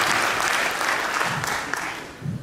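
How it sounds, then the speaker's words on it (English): A conference audience at a real estate industry event gives a speaker another round of applause: a brief, loud, dense wash of clapping that eases off slightly toward the end. "Can we give him another round of applause?"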